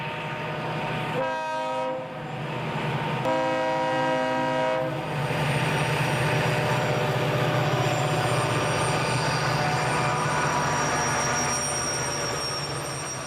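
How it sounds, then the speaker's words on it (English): An eastbound loaded coal train on the B&O line at Independence, West Virginia, passes in snow, its horn sounding in repeated blasts over a steady loud rumble and clatter of wheels that goes on to the end. "The next scene is at Independence, West Virginia, with an eastbound loaded coal train in the snow."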